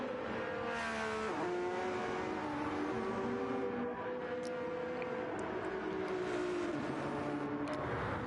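Racing cars accelerating past on a circuit, engines whining and rising in pitch as they rev and sweep by, one after another, loud and sustained.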